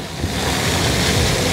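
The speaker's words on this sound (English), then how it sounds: "in front of us are like a load of water jets" Water jets in a New York park splash in a steady, close, broadband hiss that stays even and continuous with no one speaking.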